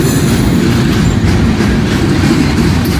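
A freight train rolls past close by, a loud, continuous rumble of rail cars with clattering wheels and faint squeal throughout.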